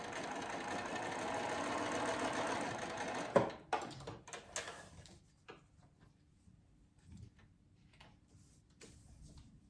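Sewing machine stitching fabric onto a paper piecing pattern, a soft steady whirring run that stops abruptly, followed by a few faint clicks and small handling noises in a quiet room.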